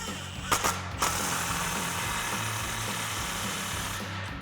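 A 15mm socket ratchet tightens an exhaust clamp on a Jeep Gladiator, giving a few sharp clicks early on and then a steady mechanical whir that runs to the end with no speech.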